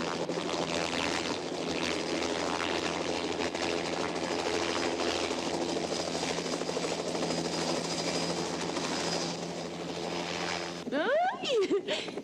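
A helicopter in flight heard from inside the cabin, a steady loud droning engine and rotor hum throughout, with a voice speaking over it near the end.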